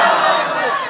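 A large crowd at an outdoor Bangla waz religious gathering roars a Nara-e-Takbeer response chant, one loud sustained shout of many voices that fades slightly toward the end.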